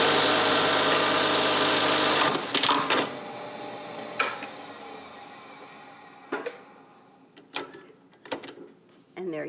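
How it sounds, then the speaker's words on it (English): An industrial buttonhole sewing machine whirs in a steady, loud mechanical run for about three seconds while stitching a buttonhole, then stops, followed by scattered sharp clicks and clunks of the mechanism. "turn it on, and I'm going to give that right foot pedal a really good, so you're going to push down and lift up your foot."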